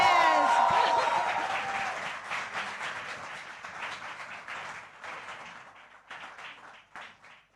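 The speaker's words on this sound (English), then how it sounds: "Let it rip. A loud, loud applause, everybody." Loud applause from an audience at a celebrity panel event bursts out at full volume, then gradually thins and fades over several seconds into scattered claps.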